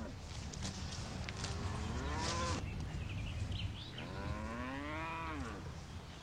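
Dairy cattle mooing, two long drawn-out lowing calls with rising and falling pitch, close and clear over a low background rumble.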